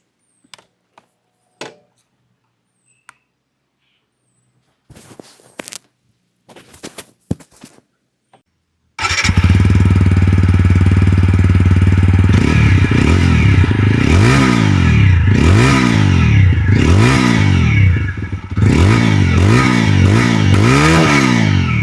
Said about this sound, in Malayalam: വളരെ മൈൽഡ് ആയിട്ടുള്ള വളരെ റിഫൈൻഡ് ആയിട്ടുള്ള എക്സോസ് നോട്ടാണ് നമ്മുടെ R T R one sixty four വിക്ക് കൊടുത്തിരിക്കുന്നത്